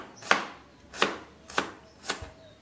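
A knife thinly slicing shallots and garlic on a cutting board gives four crisp, evenly spaced chopping strokes about half a second apart, close and distinct with no talking.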